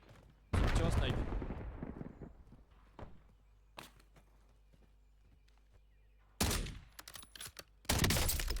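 Sniper rifle shots in a battle royale video game, a few loud sharp cracks spaced seconds apart with quieter gunfire and clatter between them, and a burst of shots near the end.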